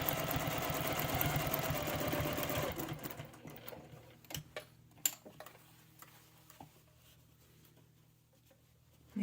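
Sewing machine stitching straight across a clutch purse seam, a steady close whir for under three seconds that stops, followed by scattered faint clicks and fabric handling.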